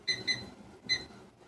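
Kitchen timer being set for cooking noodles: three short, bright electronic beeps, two in quick succession and a third after a pause, close and clear over faint room noise.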